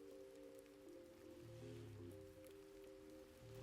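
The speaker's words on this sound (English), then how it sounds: "The rain outside isn't letting up anytime soon" Heavy rain pours steadily outside a cyberpunk pawn shop, a soft hissing wash that sits quietly beneath sustained mellow lo-fi synth tones.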